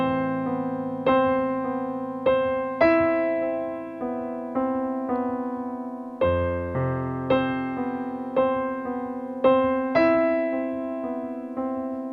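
Solo piano plays slow chords, each chord struck cleanly and left to ring and decay, moderately soft with no talking.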